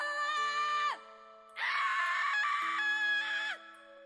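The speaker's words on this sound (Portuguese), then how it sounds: "Então, começaram os gritos." Two long, shrill screams in a horror story narration, each a sustained wailing cry that ends with a falling pitch, separated by a short pause and heard alone.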